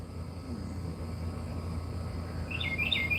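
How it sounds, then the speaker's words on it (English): Birds calling outdoors in Oklahoma give a few quick, bright chirps near the end, set against a steady low outdoor rumble, with no voices. "you hear the birds?"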